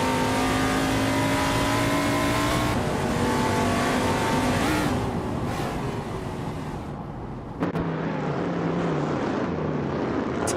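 Race car engines in an AI-driven car racing video game roar continuously and loudly. Overlapping revs rise and fall as the cars accelerate, and no one speaks.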